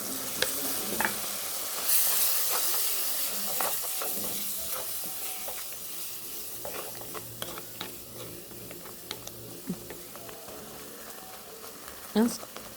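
A Kerala pachadi mixture seasoned with cumin and fenugreek powder bubbles and simmers in a pan on the stove, a soft continuous sizzle broken by sharp clinks of a spoon against the vessel, with faint voices now and then.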